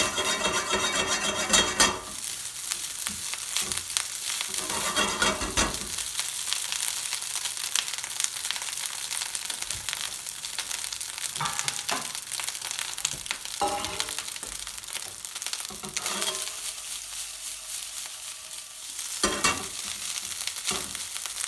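Egg pilau rice frying in a pan, Bengali restaurant style, with a loud continuous hiss and sizzle close up and intermittent stirring scrapes and knocks against the pan, no voices.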